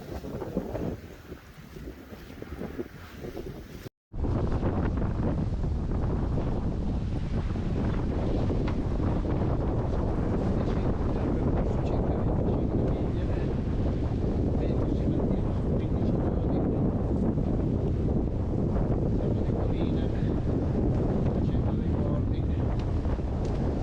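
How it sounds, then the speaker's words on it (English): Strong wind roars across a sailboat making about six knots in eighteen knots of breeze at sea, a loud, unbroken buffeting rush against the microphone that continues steadily after a brief cut near the start. "We were speeding about 6 knots on 18 knots of wind."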